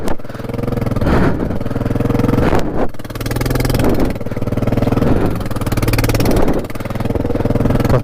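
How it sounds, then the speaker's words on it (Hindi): A motorcycle stuck on stones in a mountain water crossing near Baralacha Pass, its engine revving loud and close in repeated surges with brief drops between, with clattering underneath. "पत्थर बहुत ज़्यादा है ना, फंस जा रहा बाइक।"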